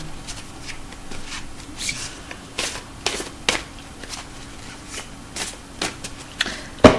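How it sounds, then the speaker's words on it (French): A card is drawn from a deck of Eckhart Tolle oracle cards, giving soft scattered papery rustles and brief sharp flicks of handling, close and quiet, with a small sharper snap at the very end. "Ok, donc je tire la carte."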